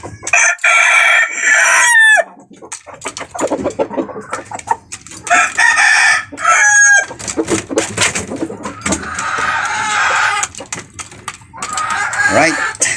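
Fighting roosters crow loudly and repeatedly at close range during feeding, with long strained calls broken by clucking and scattered pecking sounds, and someone talks briefly between the crows.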